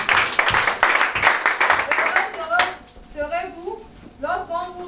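A church congregation bursts into loud, dense applause and clapping for a couple of seconds, then it fades as a preacher's voice carries on speaking alone.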